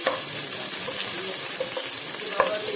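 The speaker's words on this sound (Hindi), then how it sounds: "डाल दी मैं इसमें अनियन, इसको हम हल्के से सौटे कर लेंगे।" Onion sautéing in hot oil for veg noodles, a steady dense sizzle and crackle with occasional stirring scrapes, close and continuous with no talking.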